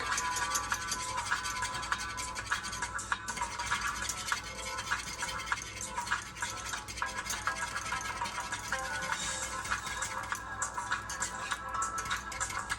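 A whisk beats a mixture in a bowl while cooking a holiday Thanksgiving dish, giving a fast, steady scraping and clicking that runs without pause for the whole stretch, close and fairly loud.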